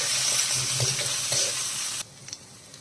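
Curry leaves with onions and green chillies hitting hot oil, a loud dense sizzle with stirring scrapes that cuts off abruptly, leaving faint crackles.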